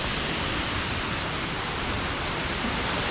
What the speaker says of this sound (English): Okay, so this is the second of the waterfalls.